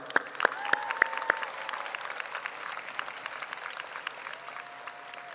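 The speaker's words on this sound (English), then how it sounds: "Let's give them a round of applause" Sustained, moderately distant applause from a crowd at a high school graduation ceremony, with a few sharp individual claps and faint whistles near the start.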